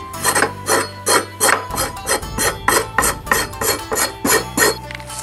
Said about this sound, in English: You can scrape off the gobo skin with the back of a knife